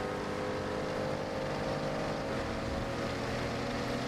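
A car drives through rain in TDU Solar Crown, a steady engine drone running evenly throughout with a soft broadband wash of rain and wind and no voices.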